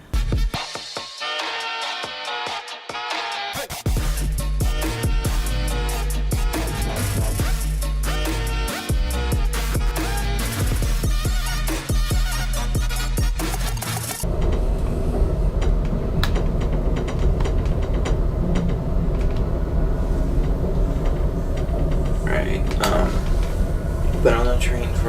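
Passenger train interior while riding, a loud continuous rumble and rattle of the carriage with clacking and mechanical noise throughout, steady and close.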